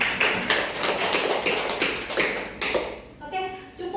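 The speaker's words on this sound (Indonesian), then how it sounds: "tepuk tangan buat Cynthia." Classroom applause for a student, several pupils clapping in a quick uneven patter for about three seconds before it thins out and stops.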